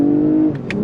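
Naturally aspirated V6 engine of a 2019 Lexus ES 350 F-sport droning steadily from inside the car, then easing off, with a couple of faint brief clicks near the end.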